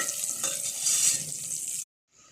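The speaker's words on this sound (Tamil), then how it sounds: "கருவேப்பிலையை நல்லா இப்படி வதக்கிக்கோங்க" Curry leaves with shallots, cinnamon, cloves and fennel seeds sizzle and crackle steadily as they are stirred in hot oil in a pan, loud and continuous before cutting off abruptly, followed by a faint return of frying.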